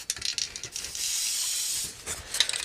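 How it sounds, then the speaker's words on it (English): A can of spray adhesive hisses onto foam during a quarry model build, giving one steady spray that lasts about a second, bracketed by short clicks and handling noises, with no talking. "All right, so I'm gonna spray along there."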